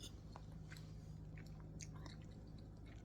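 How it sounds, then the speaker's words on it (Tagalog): Close, steady chewing of crunchy biko, a Filipino sticky rice cake, with small wet crunches and crackles repeating in a loose rhythm, no talking. "na yung sa bawat kagat mo or nguya, meron kang crunchiness na mangunguya na parang kumakain ka lang ng chips"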